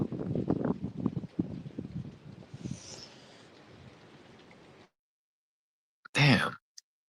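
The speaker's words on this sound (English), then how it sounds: "I said it's windy where you are." Outdoor wind buffets the microphone in gusty, low rumbling bursts for several seconds, then drops away, followed by a brief loud blast of noise.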